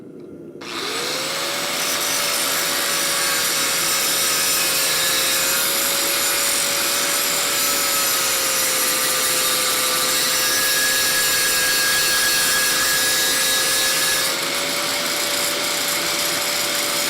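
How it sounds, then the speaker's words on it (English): An angle grinder works a steel hinge plate in a blacksmith forge shop, giving one loud, continuous high whine that holds steady for about fifteen seconds and shifts slightly in pitch as it bites the metal. "I'm just gonna go with my grinder, and I'm just gonna grind that hinge plate ever so slightly down."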